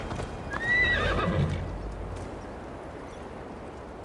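A horse in Assassin's Creed Valhalla whinnies loudly over running hoofbeats, the neigh rising and then trailing off as the galloping fades into a low, steady rumble.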